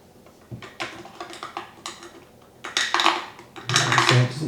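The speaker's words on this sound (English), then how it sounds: "so just keep twisting your knife round" A knife twists into a plastic bottle to bore a hole for a garden bird feeder, making close crinkling, scraping crackles in uneven bursts that grow louder toward the end.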